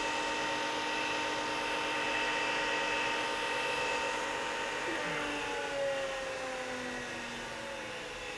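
The internal-diameter spindle of an 8 by 16 inch Tschudin Swiss high-precision grinder runs with a steady, continuous high whine whose tones drift slightly as it spins, with no talk over it.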